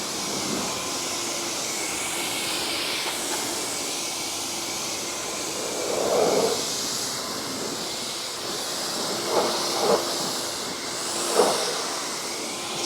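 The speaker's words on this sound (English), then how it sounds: "We're gonna rinse from the bottom up and then the top down." Water spray rinses a car from the bottom up, a steady close hiss of pressure washing with a few louder bursts where the jet strikes the panels.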